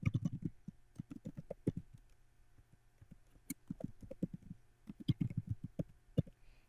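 Keyboard typing while supplier contact and address details are entered into accounting software: bursts of quick, close keystrokes in irregular runs with short pauses between them.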